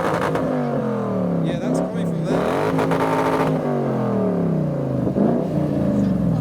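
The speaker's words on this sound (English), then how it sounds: "There's a V8 Lexus doing some revolutions behind." A modified V8 Lexus at a car show revs its engine, the pitch rising and falling in several loud sweeps, with people talking over it.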